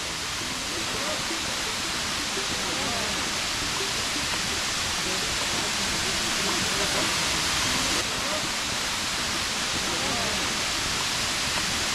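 Kangthilangso waterfall in Karbi Anglong roars as a dense, constant rush of falling water, loud and close, with a voice speaking faintly under it.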